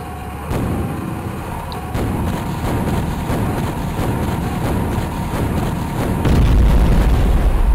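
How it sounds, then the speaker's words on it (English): Big cannon firing amid repeated explosions in the Shadow Warrior video game, a dense barrage of booms and bursts at a steady loud level, swelling into a heavier low rumble near the end. "I need the bigger cannon."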